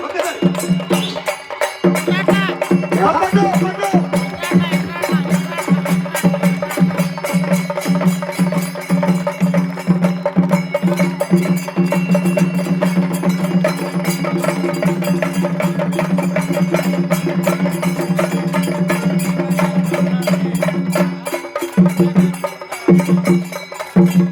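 Chenda drums at an Ayyappa Maha Padi puja in Vellanki, played loudly in a fast, continuous roll with a steady low drone and sustained ringing above, pausing briefly near the end.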